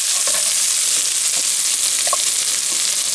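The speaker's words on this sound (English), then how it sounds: "Now we're gonna cook our onion and garlic." Onion and garlic frying in a pot, a loud continuous hiss and crackle of hot oil with a few small pops and stirring clicks, close and unbroken.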